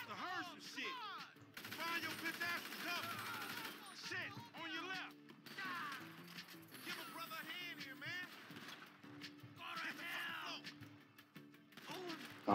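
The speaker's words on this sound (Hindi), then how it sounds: "ये गोलीबारी चालू हो गई है भाई," Video game gunfire from GTA 5 crackles in rapid bursts and scattered single shots, fairly faint and mixed with game sounds, running throughout with a few brief gaps.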